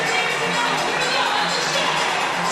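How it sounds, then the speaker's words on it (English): Dense, steady roar of a crowd on its feet at an indoor track meet during a girls' 5000m race, a continuous wash of cheering and shouting that stays loud and even throughout. "The crowd is on their feet for Ellie Shea"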